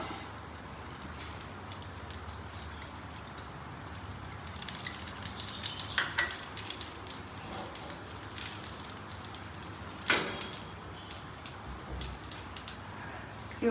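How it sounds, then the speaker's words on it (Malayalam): Mustard seeds and fenugreek crackle in a hot pan, giving faint scattered pops and spatters, with a sharper burst partway through, over a quiet kitchen hum. "ഇത് നമുക്ക് ഈ കടുകും ഉലുവയും ഇട്ട് കൊടുക്കാം"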